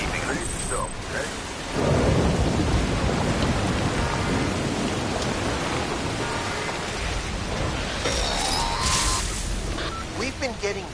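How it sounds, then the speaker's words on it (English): Timefall rainstorm in the video game Death Stranding, a steady wash of heavy rain hissing on surfaces with low rumbling thunder, swelling louder after a moment and continuing alone. "We've been getting near constant timefall in this region for a while now."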